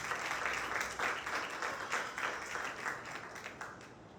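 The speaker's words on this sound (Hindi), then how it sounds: "यीशु के लिए जोरदार तालियां बजाएं।" A church congregation applauds at a Sunday meeting, a fairly faint, dense patter of many hands clapping that fades toward the end.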